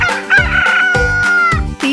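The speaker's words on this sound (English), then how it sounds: "It's just a rooster." A rooster crows a long drawn-out call set against rhythmic backing music in a children's farm song, loud and up front.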